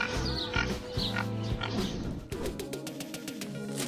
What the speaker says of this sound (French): Un petit bébé cochon?